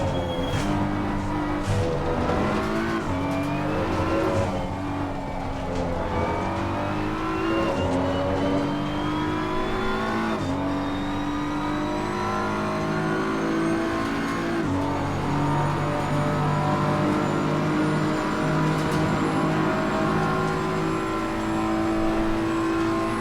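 BMW M4 GT3 race car at Imola in Assetto Corsa Competizione, engine note repeatedly climbing through the revs and dropping on gear changes, loud and continuous with no talk.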